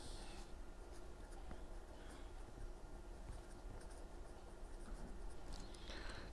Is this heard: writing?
yes